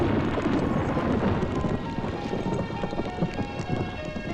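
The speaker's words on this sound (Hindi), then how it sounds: "कमाल का तूफान आया यहाँ।" A heavy thunderstorm at night, with steady dense rain pattering on surfaces and low rumbling thunder rolling underneath, continuous and loud throughout.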